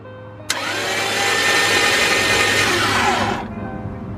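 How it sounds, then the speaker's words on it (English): An engine cranks over with oil in it, starting with a sharp click and followed by about three seconds of loud, steady whirring close by. The sound then cuts off, leaving a low background hum. "Just crank it over a little bit."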